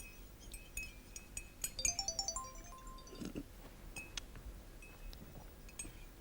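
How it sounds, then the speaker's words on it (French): A mobile phone rings on a theatre stage, a short run of bright, rapid electronic ringtone pulses rising in quick succession, with faint clinks and low room noise around it; moderately quiet and heard alone without talk. "il y a ce téléphone qui vibre."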